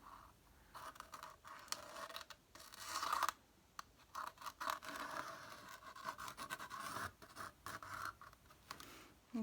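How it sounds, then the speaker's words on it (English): A pen or pencil scratches across paper while a person is sketched, in bursts of quick strokes with short pauses and faint taps, close and fairly quiet, with no voices. "I'm just gonna kind of draw an interesting person here."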